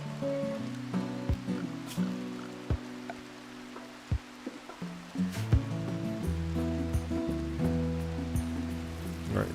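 Steady rain ambience from the video game RimWorld hisses softly beneath plucked guitar music, with no talking.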